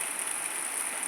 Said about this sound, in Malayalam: മഴ കേട്ടോ